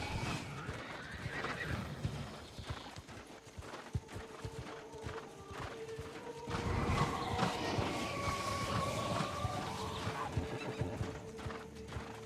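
A horse mount in the New World video game snorts and whinnies while its hooves clip-clop steadily, joined later by a louder rumbling layer of game ambience, all continuous and close with no talking.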